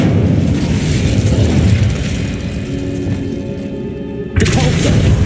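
Incendio fire spell in Hogwarts Legacy: a loud, sustained whooshing burst of flame and booming blast, roaring steadily for several seconds before cutting off into a fresh rumbling burst.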